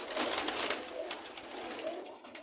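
Soft, low cooing of pigeons repeating at a relaxed pace, fairly close, with faint background hiss and no talking.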